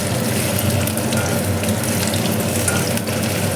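Fish and pointed gourd fry steadily in a pan, a continuous broadband sizzle close by with no talking over it.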